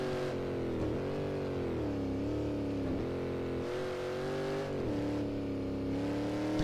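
A Shelby Cobra 427 V8 driven on rural countryside roads in Assetto Corsa, its engine droning loud and steady with a deep rumble, pitch rising and dipping through the revs and gear shifts, close and alone.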